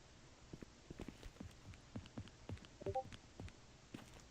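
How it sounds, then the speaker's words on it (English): Bot characters walk in Garry's Mod, producing soft, steady footstep thuds at an even pace over faint background hiss, fairly quiet and alone with no talking. "Like, look, they have footstep sounds."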